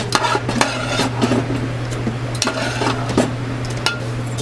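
Mushrooms cooking in a pan for risotto balls, with a steady soft sizzle and repeated sharp clinks and scrapes of a utensil stirring against the pan, alone with no talking over a constant low hum.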